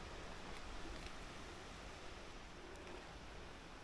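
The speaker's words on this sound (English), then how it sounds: "Oh, I can hear more water ahead." Steady broadband rush of running water on a mountain trail in the Scottish Highlands, a continuous hiss with no distinct drops, fairly faint and even throughout with no talking.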